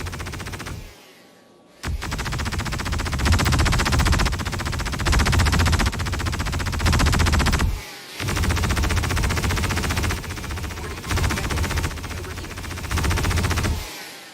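Ship-mounted Gatling guns in the Star Citizen video game fire in long, loud, continuous streams that run for several seconds, broken by two brief pauses, with no voices.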